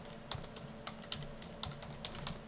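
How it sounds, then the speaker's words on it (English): Quick keystrokes on a computer keyboard, a short irregular run of light clicks close up, with no talking. "We'll type CleanFlight"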